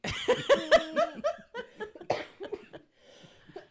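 A few quick coughs blend into chuckling laughter, close and fairly loud, then trail off into quieter breathy sounds.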